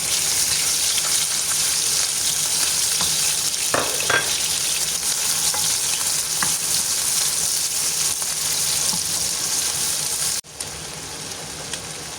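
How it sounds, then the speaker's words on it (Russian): Meat frying in hot refined sesame oil, with a loud, steady, close-up sizzle like rain that is broken by a few faint clicks and cuts out briefly near the end. "Сначала обжариваю мясо. Масло уже накалилось."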